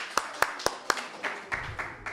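Small audience applause at a gathering, a few separate sharp claps turning into brief scattered clapping that lasts about two seconds, close and moderately loud.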